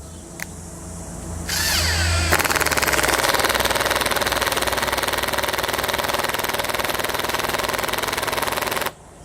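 A Makita drill running on setting 1, heard as a loud, fast, buzzing hammer-like rattle that starts after a brief click and a rising whine and runs steadily for several seconds before cutting off abruptly, with no talking.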